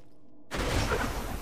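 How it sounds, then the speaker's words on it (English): A modded Bad Touch gun fitted with an alien barrel fires in the video game Borderlands 2, a sudden dense burst of noisy blasts that cuts in after near silence and stays loud to the end. "this is a modified version of Miss Moxie's Bad Touch or Good Touch, one of them. And I put a AR Alien barrel on it"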